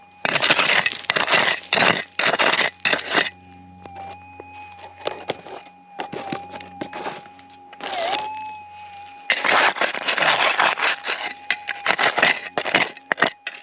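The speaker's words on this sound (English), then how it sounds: "It's the noise of the plastic there." Loud, close plastic crinkling in bursts at the start and end, with a steady electronic tone from a metal detector in the quieter middle stretch, outdoors in Arizona.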